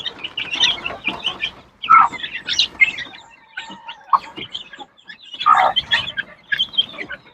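Young chicks peep and chirp close by in uneven bursts, with short quiet gaps between clusters of calls.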